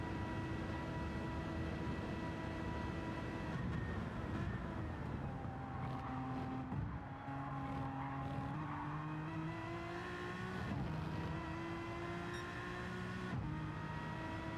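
A race car engine in the Gran Turismo 7 video game during a Le Mans 24-hour race: a steady, dense engine drone with rising and falling gear-change pitches, continuous and moderately close, with no talk.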